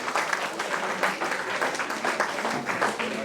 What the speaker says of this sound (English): I want a great round of applause from you guys.